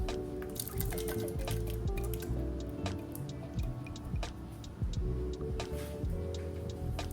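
Canned tomato paste and chili beans tip into a chili pot, giving a steady run of wet squelches, plops and drips, close and fairly loud, with no voices.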